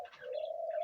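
A fledgling dove about 18 to 19 days old gives a single soft, steady coo lasting under a second, close and clear with no talking.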